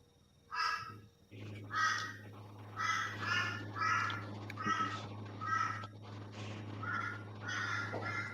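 A magpie calls repeatedly nearby, a series of harsh, rasping caws in a rough rhythm of about a dozen calls over a constant low electrical hum.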